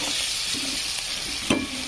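Biryani masala, coriander powder and garam masala frying in a pan for masala pulao, with a steady close sizzle and a few stirring scrapes, one louder clatter near the end.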